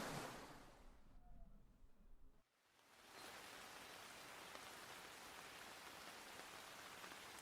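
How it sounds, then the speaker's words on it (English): Steady rain falls in the woods in a fantasy video game, with a dense, even hiss of drops; the sound thins briefly before the downpour swells back and stays constant. "In the woods, the rain was more peaceful."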